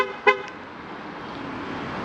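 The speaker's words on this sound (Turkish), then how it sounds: "iki defa bastığınızda orta tuşa bu şekilde korna ve ikaz ışıklarıyla yerini söylüyor." A single short car horn beep from a Chery Tiggo 7 Pro, triggered by the key fob locator, near the start, followed by a steady low hum of background noise.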